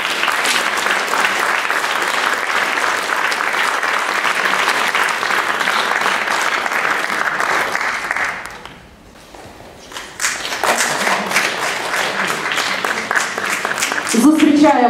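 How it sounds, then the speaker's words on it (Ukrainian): A concert audience applauds a piano orchestra, dense continuous clapping that dips briefly midway and then resumes, with some talk mixed into the crowd noise. "Зустрічаємо оплесками оркестр піаністів."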